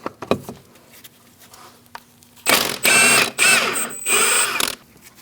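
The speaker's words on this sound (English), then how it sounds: "Using a 15mm socket, we're going to remove this nut." Bursts of clicking from a 15mm socket ratchet loosening a tie rod nut on a 2000-2006 Mini Cooper, several close, loud runs of rapid pawl ticks after a quieter start.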